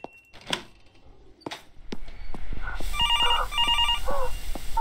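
In the horror game Infliction, a few scattered thuds and knocks give way to a telephone bell ringing in two clear repeated bursts over a low rumbling background.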